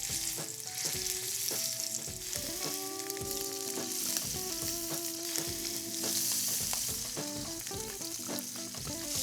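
Scallops hit a hot sauté pan and sear with a steady, loud sizzle that holds throughout, while tonal background music plays along underneath it.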